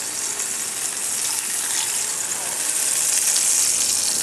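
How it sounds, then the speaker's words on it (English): Foie gras sizzles loudly and steadily in a hot frying pan, a close, continuous crackling hiss with no break. "So now we're just going to grab the foie, flip it over."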